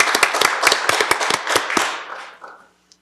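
Sparse clapping from a small group at a city council meeting honoring city employees, a dozen or so distinct sharp claps close by, trailing off after about two seconds into quiet.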